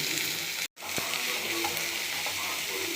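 Two large onions sauté in oil with mustard seeds and urad dal for a mushroom gravy, giving a steady close crackling sizzle with light stirring scrapes and a brief gap near the start.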